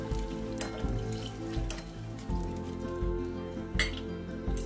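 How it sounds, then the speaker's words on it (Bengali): Bay leaf, whole cumin and dried chili fry in oil for a chicken and potato curry, making a steady sizzle. Sharp clinks of a metal spoon against the pan break in now and then, with no talking. "তেজপাতা, গোটা জিরে, শুকনো লঙ্কা এগুলিকে ভালো করে তেলের সঙ্গে এবার ভেজে নেব"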